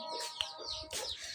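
A rooster clucks and makes short fowl calls close by in a village yard, where a hen is also kept, in a brief run of a few bursts with no talking.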